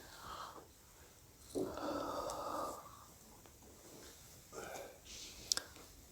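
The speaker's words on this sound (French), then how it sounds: "Bâillez." A person yawns, with a long breathy inhalation swelling and fading, followed by softer breaths and a later shorter sigh, close and quiet with a couple of small clicks.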